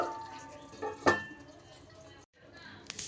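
A lid is set over a pan of taro curry on a gas stove, giving one short metallic clank amid quiet kitchen clatter while someone talks.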